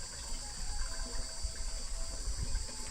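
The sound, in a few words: water being filled from a village water source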